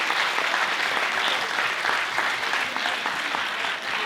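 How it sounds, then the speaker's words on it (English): Audience applause at an International Baccalaureate event, a full, continuous patter of many hands clapping at an even, loud level throughout, with no talking on top. "So big round of applause for"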